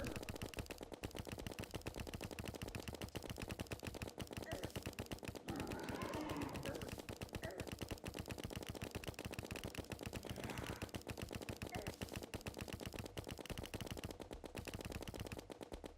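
Rapid automatic gunfire from a gun in the video game Terraria, a dense, continuous stream of loud shots lasting the whole stretch with no pauses and no talk.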